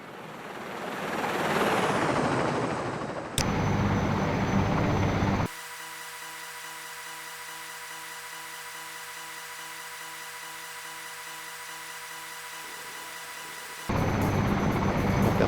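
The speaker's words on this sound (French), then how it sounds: "voyons voir ce Sea King en vol. Oh, c'est un gros appareil." Sea King helicopter in flight in the Search And Rescue 4 game: a rising whine and broad rotor roar, then after a cut a steady droning hum with a pulsing beat for several seconds, returning to louder broadband noise at the end.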